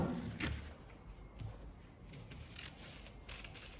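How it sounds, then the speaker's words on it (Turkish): Scissors snip through fabric cut on the bias in a few quiet, irregular cuts, close by, with soft rustling of cloth in between. "Şöyle iki tane verev parça keseyim buradan."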